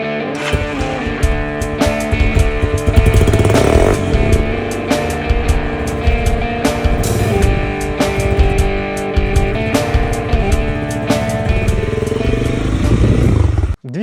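Lifan KP200 motorcycle with a water-cooled single-cylinder engine running: a loud, close engine drone with revving swells and clattery texture over the whole stretch.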